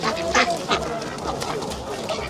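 Fattened ducks at a poultry market quack continuously in a dense, noisy chorus, with overlapping calls close by and loud crowd and market bustle beneath them.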